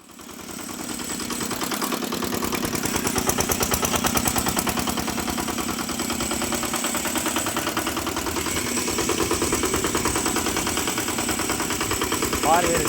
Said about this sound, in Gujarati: ટ્રેક્ટર આવી રહ્યું છે ભાઈ